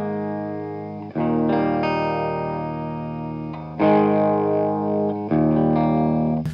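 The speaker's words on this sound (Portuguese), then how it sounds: "Bom, esse é o sonido da guitarra." An electric guitar plays through a Bogner Ecstasy Red amplifier, giving loud, sustained distorted chords. Each chord rings out and decays before the next strum, with three or four struck over a few seconds and no talking.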